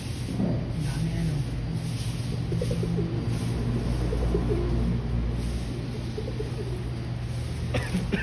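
Breeder pigeons coo softly in a loft, their low repeated calls set against a steady background hum and faint murmured voices.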